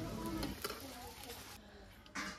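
Potatoes for Kashmiri aloo dum fry in a pan and are stirred, giving a faint, soft sizzle broken by a few short scraping bursts.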